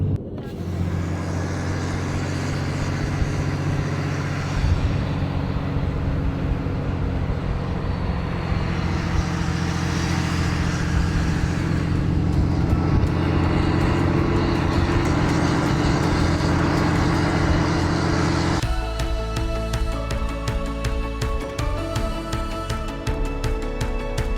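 On a mountain highway, a vehicle engine tows an RV uphill in second gear at about 25 mph, giving a continuous, loud drone with road noise that shifts in tone near the end.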